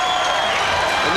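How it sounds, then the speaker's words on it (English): A beach volleyball crowd at the 1996 AVP Clearwater Cuervo Finals roars after a missed serve in a championship match. The burst is brief and loud, with a commentator talking over it. "Crowd goes crazy."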